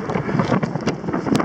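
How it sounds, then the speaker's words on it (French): Strong wind blowing steadily at a seaside beach where windsurfers are out, a continuous roaring rush with gusty swells and occasional brief knocks, close and fairly loud with no voices. "il y a un vent de chacal"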